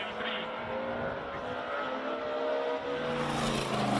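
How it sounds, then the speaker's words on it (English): Four-cylinder BMW E30 M3 race car at a classic car circuit event, its engine roaring steadily and loudly up close for the whole stretch, with a brief higher rasp near the end. "What a great sounding all four-cylinder E30 M3."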